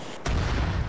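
A launcher fires in ARMA 3 as one sudden, loud blast that gives way to a dense, roaring rumble lasting to the end, with no talk over it.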